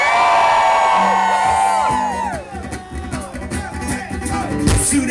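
Concert crowd screaming, whooping and cheering at a live show, a loud sustained roar that swells and stays dense throughout, with shrill yells rising above the mass near the end.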